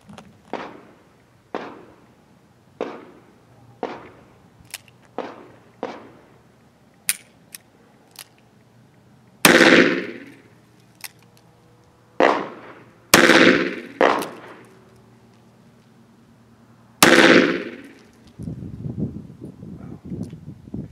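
Revolver firing Remington Hollow Point +P rounds for a muzzle velocity test, a long series of sharp, loud single shots spaced a second or two apart, some ringing with echo, with quiet pauses between.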